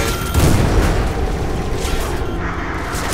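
A grenade explosion in a co-op shooter game, a loud deep boom with a rumbling tail that fades over a few seconds, close and dominant.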